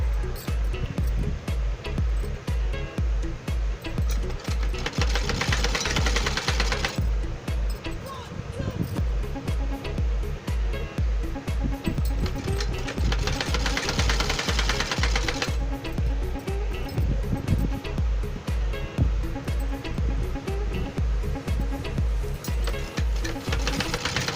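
A sewing machine stitches along a folded edge of leftover cloth for a kurti, its rapid mechanical needle chatter running loud and close in long bursts with a short pause between.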